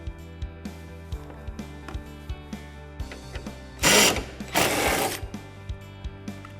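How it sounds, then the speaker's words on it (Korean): A 12 mm socket wrench removes car hood hinge bolts with a regular series of sharp ratcheting clicks, close up. Two louder, longer whooshing bursts break in partway through. "먼저 후드를 코너 부분을 잡고 힌지 고정 볼트 2개를 탈거합니다."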